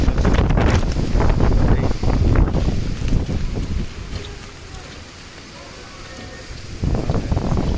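Strong gusting wind from Cyclone Remal at Sadarghat, Dhaka, buffets the microphone in loud roaring bursts, easing for a few seconds before surging again; faint background noise underneath.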